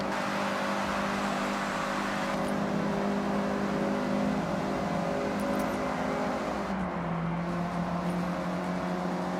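Mazda MX-5 in a racing video game with a generic four-cylinder engine note, a steady droning hum held at a constant level throughout, no voices.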